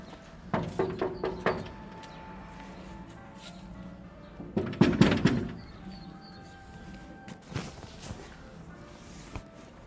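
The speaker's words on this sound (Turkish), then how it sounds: "kapıyı çalıyor ama belki açan olur" Someone knocks on a building's door: a quick run of sharp raps, then a louder, denser flurry a few seconds later and a lone tap near the end, over quiet background noise.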